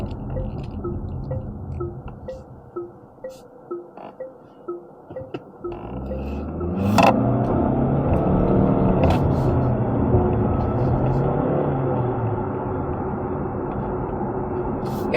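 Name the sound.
2023 Chery Omoda 5 accelerating in sport mode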